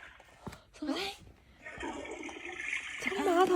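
A toilet flush sound effect played from a children's sound book, a short watery rush and trickle mixed with a child's vocalizing and adults talking nearby.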